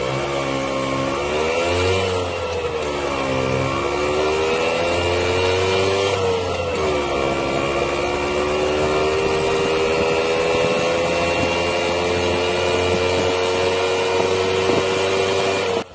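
Piaggio Ape 50 three-wheeler micro camper engine revving hard and driving, a steady loud small-engine drone with rising and falling pitch sweeps throughout, no voices.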